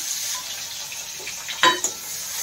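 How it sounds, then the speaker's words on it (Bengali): Chopped onion dropped into hot oil for a pomfret and pumpkin curry gives a steady, close sizzle and crackle, with a brief louder burst as it hits, and no talking. "তেল আমার গরম আছে, তো এর মধ্যে আমি পেঁয়াজটা দিয়ে দিচ্ছি।"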